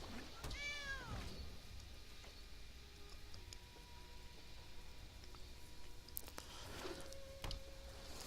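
A kitty card played in the MTG Arena video game gives a short rising-and-falling cat meow near the start, followed by quiet game interface ticks and soft chimes, with a second fainter meow-like chirp near the end.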